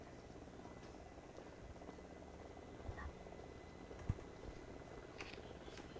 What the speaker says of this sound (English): that's a Mi-17 V5 helicopter in the airspace